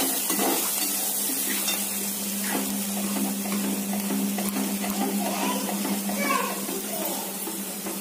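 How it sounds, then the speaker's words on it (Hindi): Dal makhani is stirred in a cooking pot, giving a steady soft scraping and bubbling sizzle that runs continuously over low kitchen hum, with a voice faintly present in the background. "अभी दाल डालने के बाद हिलाना है"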